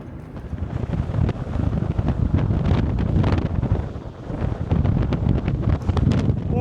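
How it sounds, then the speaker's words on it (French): Strong wind buffets the microphone in continuous loud, rumbling gusts outdoors near the water around Narbonne, with a brief lull midway before the blustery roar picks up again. "Oh là là, il y a du vent"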